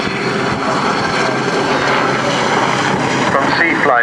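RAF Sea King helicopter at an air show, backing up and away with a loud, steady rotor and turbine roar that fills the scene, heard close and continuous while an announcer speaks over it.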